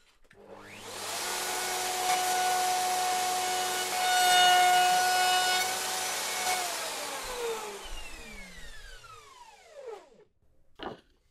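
A powered sander works wood for DIY speaker stands with fine grit, giving a steady high whirring drone for several seconds before the motor winds down with falling pitch, followed by a few short bumps.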